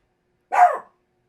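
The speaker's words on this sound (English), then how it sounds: "Don't mind my doggy." A single short dog bark from a pet dog rings out clearly and fairly close, one brief burst standing alone in otherwise quiet surroundings.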